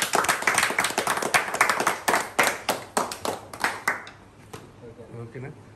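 A small group claps for a student who has just repaired a Samsung double-decker CPU board, a lively burst of rhythmic handclaps lasting about four seconds, then dying away as a voice speaks briefly.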